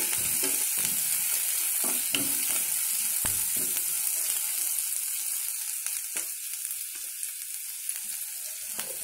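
Tempering spices sizzle in hot oil as a dal and raw mango curry is cooked, a continuous close crackle broken by sharp pops and stirring knocks that soften slightly toward the end, with no voices.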